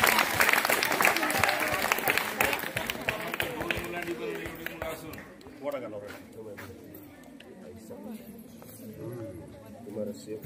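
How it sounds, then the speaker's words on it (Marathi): Students applaud loudly at a school Teachers' Day event, with a burst of crowd clapping that fades after about five seconds into voices talking and chatter. "टाळ्या वाजवा"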